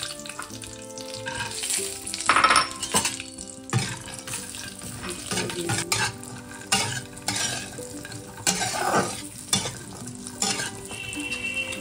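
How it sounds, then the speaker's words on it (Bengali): Cashews frying in white ghee in a wok, a continuous sizzle broken by repeated stirring scrapes and clatters of the spoon, with a brief run of water near the end and no speech. "কড়াইতে সাদা ঘি দিয়ে দিয়েছি, এই যে সাদা ঘিটা। আর সবার আগে কাজুগুলো ভেজে তুলবো।"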